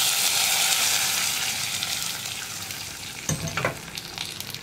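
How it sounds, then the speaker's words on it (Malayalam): Curry leaves and dried chillies fried in hot oil as a tempering for a Kerala tomato prawn curry, giving a steady loud sizzle that hisses on throughout, with a brief burst of crackling near the end. "അപ്പോൾ ഞാൻ നമ്മുടെ വറവ് കറിയിലേക്ക് ആഡ് ചെയ്യാണ്"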